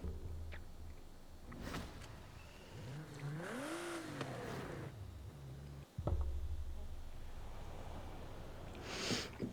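Engine of a GTR car driving in Forza Horizon 5, with revving and shifting tones that rise and fall, a brief mechanical clunk around the middle, and a steady road rumble underneath.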